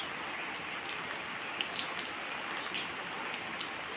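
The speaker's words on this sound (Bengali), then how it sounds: "দেখো, ভালোই বৃষ্টি হচ্ছে।" Night rain falls steadily on an open courtyard, a soft, even hiss with occasional louder drips and patters standing out close by.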